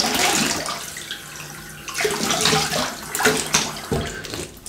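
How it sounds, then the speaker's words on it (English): Cold tap water runs and splashes as a Yaqi Telstar safety razor head is rinsed under the faucet. The close, uneven gushing comes in several bursts as the razor passes through the stream. "Cold water rinse."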